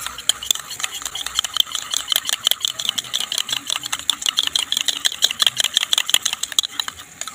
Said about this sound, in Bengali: টক দই নিয়ে নেব আরও 1 চামচ, নিয়ে ফেটিয়ে নেব